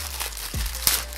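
Plastic bag crinkling as a monitor sun guard is unwrapped, a few short, close rustles and crackles over quiet background.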